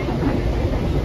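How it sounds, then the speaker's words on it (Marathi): A passenger train near Nagothane station gives off a loud, continuous low rumble, close and heavy throughout the short stretch. "आत्ताच जस्ट ट्रेन थांबली ती नागोठण्याला."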